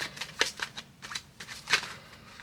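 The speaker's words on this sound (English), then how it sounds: "I cut the deck before I saw the bottom card." A tarot deck is cut and shuffled by hand, giving several quick, close bursts of riffling and flicking card noise in an uneven rhythm, with no talking.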